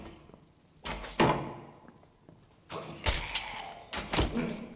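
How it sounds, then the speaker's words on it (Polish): Wooden dungeon door swinging shut in the fantasy game Dark and Darker, a few heavy thuds and knocks spread over several seconds, fairly close with game ambience between them. "Zaraz zamkniemy za sobą drzwi."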